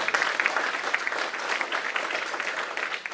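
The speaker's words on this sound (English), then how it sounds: "So a big clap for Nishant sir" An audience at a talk for BCA students claps for a guest speaker, a brief steady burst of close, dense applause with no voices over it.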